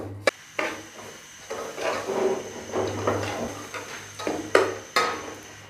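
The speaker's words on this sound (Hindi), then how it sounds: "वैसे इनको करते हैं हल्का सा फ्राई।" Pistachios, almonds, coconut and raisins are stirred briefly in a pan with a spoon, giving sharp metallic scrapes and knocks over a low frying sizzle, fairly quiet with no talk.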